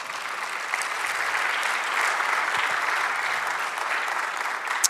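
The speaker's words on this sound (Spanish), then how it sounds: "Démosle otro aplauso al Señor." A church congregation claps together in steady, sustained applause for about five seconds, even and moderately loud throughout the room with no talk.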